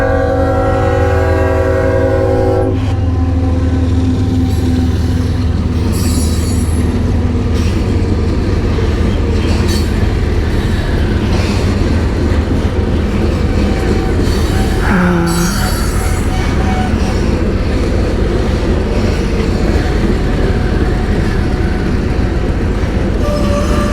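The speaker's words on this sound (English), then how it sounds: "we're gonna hear the train because they're gonna get happy with the horn" A train rumbles steadily nearby, its horn blaring in sustained tones at the start, with wheels and cars clattering throughout.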